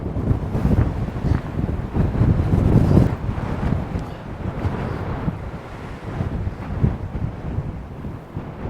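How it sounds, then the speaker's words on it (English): Strong gusting wind at Fanad Lighthouse on the Donegal coast buffets the microphone with loud, continuous roaring rumble that swells and eases throughout, with no voices heard. "it's very windy here."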